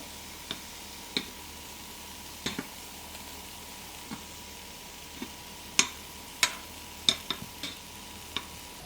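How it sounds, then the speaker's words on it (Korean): Eggplant fries in a pan with a faint, steady hiss, broken by sparse, crisp clicks as a utensil turns the pieces now and then, growing a little more frequent toward the end. "팬에 가지를 모두 넣어줄게요. 타지 않게 뒤집어주면서 좋아하는 식감으로 익히세요."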